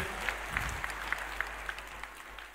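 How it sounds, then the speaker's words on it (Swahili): A church congregation applauding together, a dense burst of clapping with distinct sharp claps rising above the crowd, steady for the whole short stretch. "Situwapigie makofi mazuri."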